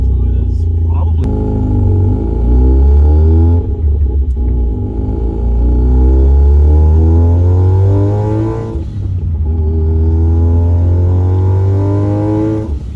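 A car engine is driven hard, revving loud and close through repeated rising pulls and gear changes, with a deep rumble and brief dips between runs, while people talk inside the car.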